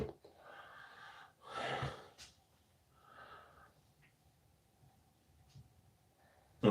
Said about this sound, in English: I feel like I'm just like sniffing into a megaphone